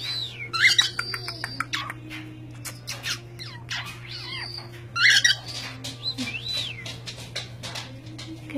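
A pet bird whistles and chirps close by at a mirror in short bursts with swooping pitch, alongside squawks and a steady low hum.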